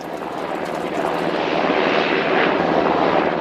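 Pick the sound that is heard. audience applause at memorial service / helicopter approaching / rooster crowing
helicopter approaching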